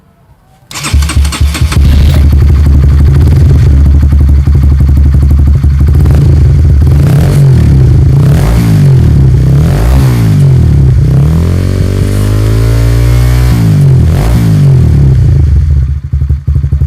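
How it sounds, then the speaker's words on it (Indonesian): A custom Honda CB motorcycle with a short silencer exhaust is started and revved, going from near silence to a loud, deep, throbbing idle that rises and falls in repeated revs, very close and alone. "suara knalpotnya itu adem banget cuy"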